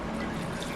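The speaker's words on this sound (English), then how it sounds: "we are going to pour this hot cream and milk on" Hot cream and milk pouring over chopped chocolate in a bowl, a short, steady liquid stream that stays close and even and ends after less than a second.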